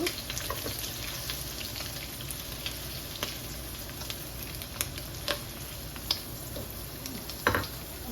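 Fresh red amaranth greens from the garden fry in a pan, giving a steady, soft, close sizzle with a few faint clinks and crackles scattered through and no talking.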